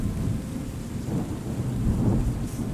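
Rain and thunder in the terraforming game Terra Nil: a steady hiss of rainfall under low, rolling thunder rumbles that swell and fade across a few seconds.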